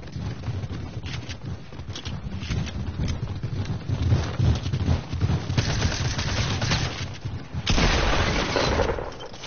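Gunfire in Fortnite, a video game, crackles as dense bursts of shots and booms, loud and busy throughout with a sharp burst near the end.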